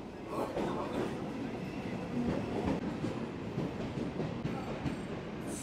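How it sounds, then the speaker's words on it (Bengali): Local EMU train rolling into a station at Howrah, its steady rumble and wheel clatter continuous and fairly close, with faint voices underneath. "লোকাল ট্রেন ঢুকছে, এদিকেরটা বেরিয়ে গেল আর এদিকেরটা ঢুকছে।"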